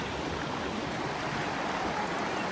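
River water rushing steadily near the Rayap waterfall in Nisam, North Aceh, a continuous broadband roar of flowing stream, close and fairly loud with no breaks.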